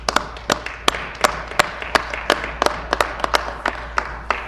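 Sparse applause in a legislative chamber, a handful of separate sharp claps at an uneven pace, close and fairly quiet over a steady low hum, with no talking.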